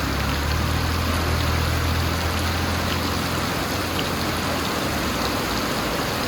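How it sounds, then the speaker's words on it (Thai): Steady rain falls around a house in Ban Na Ang village, a dense, even hiss of drops with no letup across the whole stretch and no voices. "วันนี้ได้เอาภาพฝนตกมาลงมาชม"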